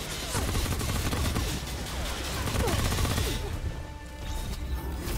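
Rapid turret machine-gun fire in Remnant: From the Ashes, a dense continuous burst of gunfire with crashing impacts lasting several seconds, easing slightly near the end.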